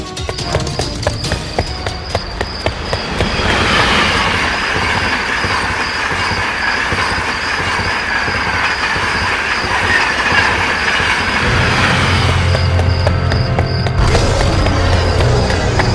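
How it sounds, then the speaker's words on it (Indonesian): A train rolls past a railway crossing, loud and close, with clattering wheels, rail squeal and a steady rumble that continues throughout. "jalan ini memiliki perlintasan kereta api, jadi kamu harus tetap lari mumpung kereta belum melintas di perlintasan itu"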